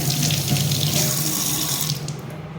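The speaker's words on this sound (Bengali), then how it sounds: "আমি এটা আমার কলে ধুয়ে নিই" Water streams from a tap over something being washed, a loud, close, steady gush that eases slightly toward the end, with no talk.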